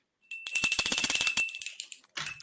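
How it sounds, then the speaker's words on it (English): Small handheld bell rung in a burst of rapid bright jingles, then a couple of quieter shakes after a short pause, close and alone. "So, I've got given a little bell."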